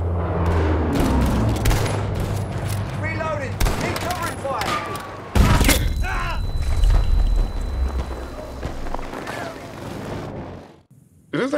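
Rapid video game gunfire in a Portal session with friends, dense bursts and booms under overlapping talk and chatter, loud and close with a brief lull near the end.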